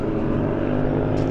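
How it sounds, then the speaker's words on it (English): Motorbikes race along a seaside promenade in Blackpool at sunset, their engines making a loud, continuous, unbroken drone that fills the whole moment without letup. "We've got a bit of a bike race going on the promenade. They're making a lot of noise."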